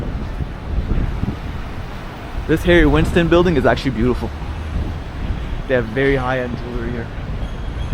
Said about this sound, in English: sorry for the wind